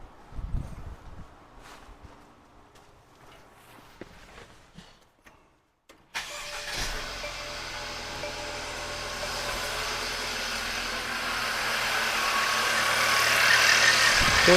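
A 2019 Mercedes-Benz GLC300 with the M274 engine cranks and catches on its first start after a thermostat replacement, jumping from quiet garage sounds to a steady idle hum that grows gradually louder and rougher over the following seconds.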